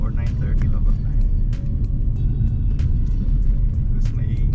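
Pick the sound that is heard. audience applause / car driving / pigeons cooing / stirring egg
car driving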